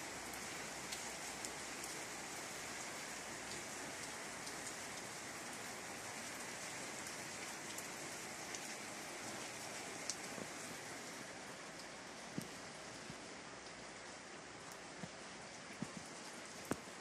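Steady rain falls at night in a constant hiss, with occasional louder drips and drops striking nearby surfaces, fairly soft and even throughout.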